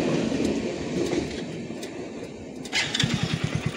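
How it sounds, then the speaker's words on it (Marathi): A passing train, heard as a steady rumbling roll that swells near the end into a rapid, rhythmic clatter of wheels over the tracks, fairly faint and with no voices. "त्याची बघा गेली ट्रेन इकडं."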